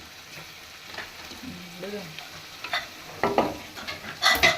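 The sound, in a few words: curry leaves and green chilies sizzling in tempering oil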